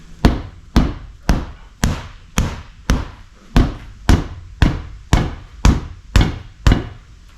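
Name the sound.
hammering to break a tire bead from the rim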